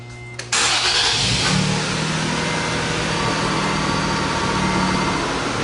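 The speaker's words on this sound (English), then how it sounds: "we are going to start the vehicle." A car engine cranking and catching, then settling into a steady loud idle, heard up close with a check engine light fault showing.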